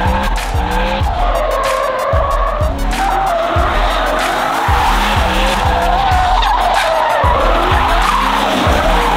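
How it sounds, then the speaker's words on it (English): A BMW E92 M3 drifts with continuous loud tire squeal and skidding, the engine roaring and revving hard throughout. "we'll show you guys a couple of slides with Sam in the E92 M3"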